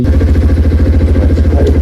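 A motorcycle engine runs steadily close by, a loud low throbbing idle with an even pulsing rhythm and no voices over it.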